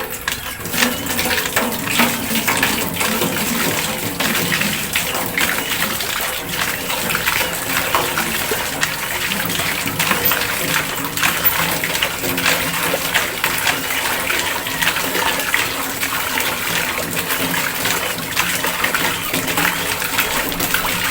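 Water gushes steadily from a hand pump into a container used for hauling water to irrigate garden plants, a continuous rushing splash with faint metallic clanks, close and loud, with no speech.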